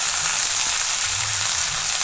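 Ginger garlic paste sizzles in hot oil with golden brown fried onions while cooking a dhaba style egg curry, a steady loud hiss of frying that runs continuously with no talk.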